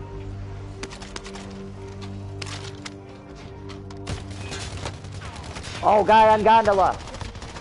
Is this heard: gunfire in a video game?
yes